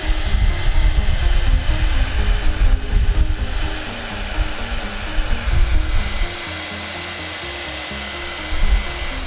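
A hair dryer blows loudly and continuously, a steady whooshing roar that drops slightly in strength partway through.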